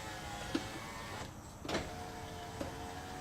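A Toyota Highlander power window motor runs in a steady, continuous whir, with a few faint clicks and knocks at intervals; it is close and fairly quiet, with no talking.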